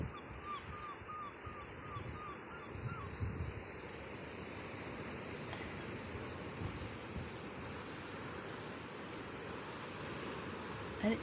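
Surf washing onto a beach at low tide with the tide out, a steady broad wash of waves under gusting wind noise, continuous and fairly even throughout with no voices.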